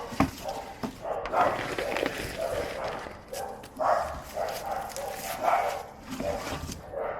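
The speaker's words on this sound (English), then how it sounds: "Apologies for the dogs, I don't know why they've all decided to go off on one." Several dogs bark and yip in repeated bursts at an allotment garden plot on a hot summer day, a loose, overlapping chorus that rises and falls, mid-distance and fairly loud.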